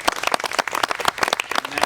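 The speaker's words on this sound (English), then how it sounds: "let's have a round of applause." Audience applause at an Eagle Scout court of honor ceremony: a dense burst of many hands clapping steadily throughout, fairly close and loud, with no speech over it.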